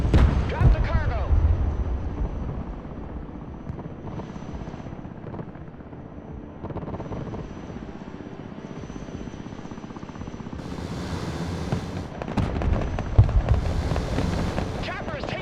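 A helicopter taking fire in the war game Broken Arrow, with a rumbling rotor and engine bed under bursts of explosive impacts and gunfire, loud at the start and again near the end, with radio-style voices over the action.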